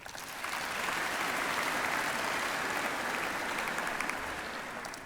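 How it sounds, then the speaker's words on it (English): A crowd claps enthusiastically, the applause swelling quickly and holding steady for several seconds before easing slightly. "I think that deserves a round of applause"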